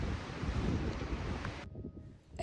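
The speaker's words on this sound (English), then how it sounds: "it was very, very wavy that day. Absolutely beautiful, the color of the sea, but very, very, very windy." Strong wind by the sea in Sicily buffets the microphone with a broad roaring rush, then cuts out abruptly, leaving a quieter low rumble before a sudden loud gust returns.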